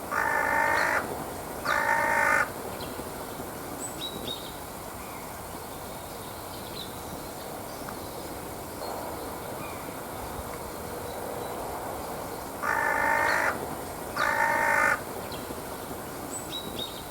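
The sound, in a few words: crows cawing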